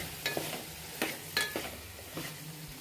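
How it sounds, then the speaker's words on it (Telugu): Okra cooks in a pan seasoned with chili powder and salt, giving a steady low sizzle with a few soft stirring scrapes and clicks spaced across the moment. "బెండకాయలు వేసి 5 మినిట్స్ మగ్గనివ్వాలి"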